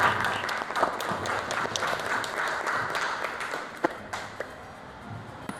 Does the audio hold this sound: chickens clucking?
no